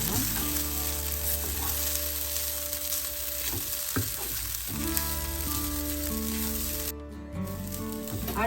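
Spicy idi sambal with small onions sizzles and fries in a pan, a loud, steady crackling hiss with occasional stirring scrapes. A brief dip in the sizzle comes near the end. No talking is heard.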